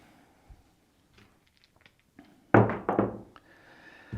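Dice thrown at a craps table land with a sudden burst of clattering knocks and tumbling, after a stretch of quiet scattered taps, then settle with a few faint clicks.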